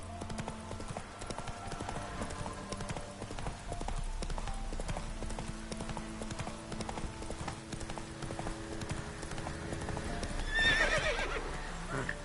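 Roach the horse gallops in The Witcher 3, hooves beating a quick, steady clip-clop throughout, with a neigh rising near the end over faint game music.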